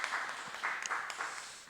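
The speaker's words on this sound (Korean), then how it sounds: "여러분 큰 박수 한번 부탁드리겠습니다" Congregation applauding during a Tuesday church prayer meeting, a soft, distant wash of scattered clapping that runs steadily through the whole moment without anyone speaking.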